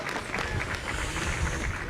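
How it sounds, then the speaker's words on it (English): An audience at a community gathering gives a short burst of applause, a dense wash of clapping heard up close. "He needs a big round of applause"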